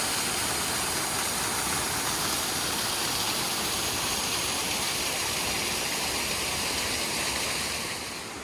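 Small waterfall on a river in an urban walking spot, a steady broad rush of falling water that holds loud and constant throughout before easing slightly at the end, with no voices.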